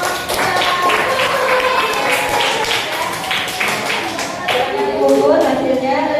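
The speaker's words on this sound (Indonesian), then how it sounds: "Kita beri tepuk tangan untuk kelompok" A group claps together in steady applause throughout, with voices chattering underneath in a lively room.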